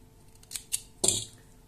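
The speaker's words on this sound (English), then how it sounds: "I am finishing with this flower, so I am cutting the rope off" Scissors cutting yarn after crocheting a flower: a couple of small snips followed by one sharper, slightly longer cut, close by and fairly quiet, with no talk.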